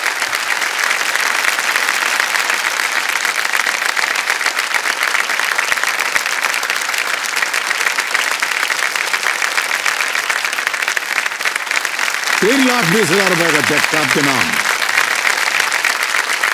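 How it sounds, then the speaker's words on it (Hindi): A studio audience on the quiz show KBC applauds a contestant, loud and continuous, while someone speaks over the clapping near the end. "जोरदार तालियां बज जाए इनके लिए"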